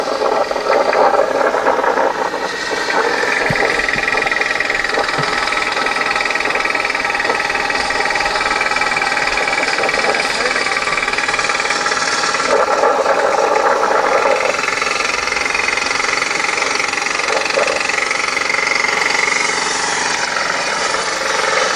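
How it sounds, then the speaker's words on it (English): Motorized tricycle engine while riding south on a road in the Philippines, a continuous loud rattling, knocking drone with steady vibration and road noise throughout. "that's the sound of a tricycle"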